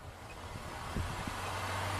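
Car engine revving up during a roadside radar speed check, a low steady drone swelling slightly with a brief burst near the middle, fairly close and continuous.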